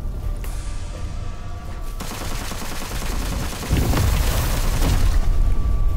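Rapid gunfire in the Witchfire first-person shooter on PC, a dense run of loud, overlapping shots with booming low end that grows heavier toward the end, no talk over it.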